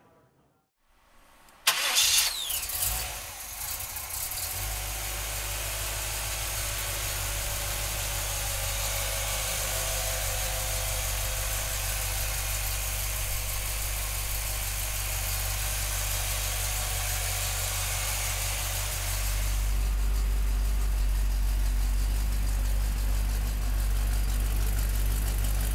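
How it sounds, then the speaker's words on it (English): A 1952 Chevrolet pickup fitted with a 350 engine cranks briefly and fires, then settles into a steady, deep, rumbling idle that grows slightly fuller later on, heard up close with no talking. "We're gonna pop the hood and fire up that 350."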